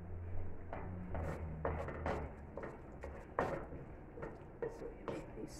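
A utensil scrapes chopped pepper off a board into a pot while cooking curry asparagus, a series of short, soft scraping strokes at close range, fairly quiet and uneven in rhythm.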